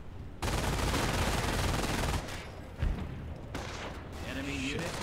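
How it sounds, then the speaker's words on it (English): Dense battle gunfire in the Company of Heroes game, a loud continuous roar of shooting and explosions that later eases a little, with someone talking excitedly over it. "Oh god, they're shooting everyone."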